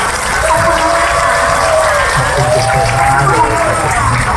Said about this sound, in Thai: ขอเสียงปรบมือให้เพื่อนดังๆอีกครั้งหนึ่งครับ